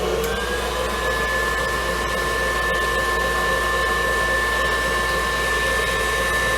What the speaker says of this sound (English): You always start off slow with your mixing, and then you increase your speed as you go.